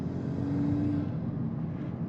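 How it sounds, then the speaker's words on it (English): A Volkswagen Golf R with an aftermarket intake gives off a steady, close engine and turbo whoosh while driving, a broad continuous roar with a brief whistling tone early on. "Turbo noises that this car makes with an intake are worth writing books about"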